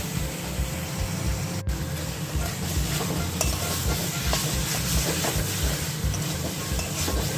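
Mutton cooking in a pan with spices, a steady close sizzle and fry running throughout with scraping, stirring movements over a continuous low rumble.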